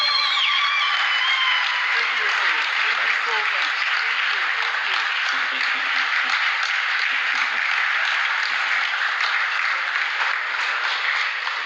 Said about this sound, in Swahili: Let's give a warm clap for that.